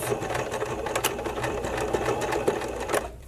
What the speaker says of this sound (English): And switch to my straight stitch. And second pass.